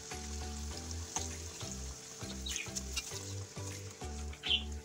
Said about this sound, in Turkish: Havuçları kızartıyorum.